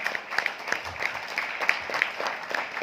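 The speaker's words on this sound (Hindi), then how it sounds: "इनके लिए एक जोरदार तालियां" Scattered clapping from an audience welcoming a guest of honour at a speech event in India, light and moderately distant, a few distinct claps rather than a full ovation.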